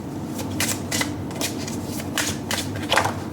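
Tarot cards shuffled by hand, several quick riffling bursts in an uneven rhythm, close and crisp, with no talking.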